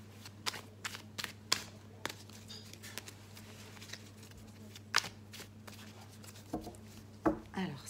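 Tarot cards shuffled and cut by hand in a quiet room, giving repeated crisp riffling snaps and soft flutters in an irregular rhythm, close and fairly quiet, over a low steady hum with faint murmured speech.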